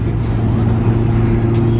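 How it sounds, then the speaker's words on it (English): A 2016 Mazda MX-5 Miata convertible, a lightweight ND roadster, drives along with a steady, loud low engine drone heard from inside the car, continuous and without pauses. "First time in a Miata, definitely feels faster than what it is."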